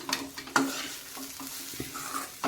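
A spoon stirs curry with powdered peanuts in a hot pan, making scraping, sizzling strokes in short uneven bursts, close and alone.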